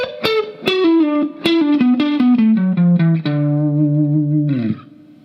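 A distorted electric guitar plays a solo lick: a wide super bend, then a run of picked notes stepping downward, ending on a long sustained note that slides away, loud and alone.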